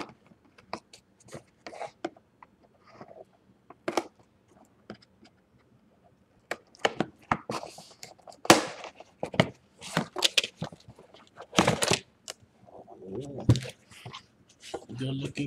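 Cardboard and plastic packaging of an M-Audio Keystation Mini 32 keyboard is opened, giving scattered crinkles, taps and rustles, loud and close, with someone talking between the sounds.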